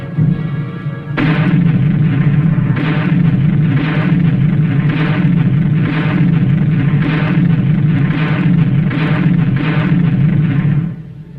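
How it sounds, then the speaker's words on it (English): A tank gun fires as artillery during the Korean War, a loud series of heavy booms about once a second that merge into a dense, rumbling barrage, with no speech. "With a little added elevation, a tank's rifle can be darn good artillery."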